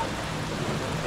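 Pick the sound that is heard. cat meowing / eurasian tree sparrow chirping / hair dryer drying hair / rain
rain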